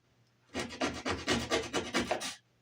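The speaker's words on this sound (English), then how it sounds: "So now this one that we just cut, we're going to take and sand the bottom down" Sandpaper rasps against the bottom end of a freshly cut wooden stair railing piece, a steady run of about a dozen close, rhythmic strokes lasting roughly two seconds with no voices.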